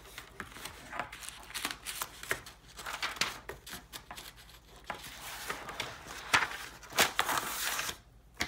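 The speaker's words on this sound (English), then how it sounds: "I'm going to flip the page." Pages of a math textbook being flipped and handled, giving continuous close papery rustles and shuffles with a few sharper flaps, no talking over it.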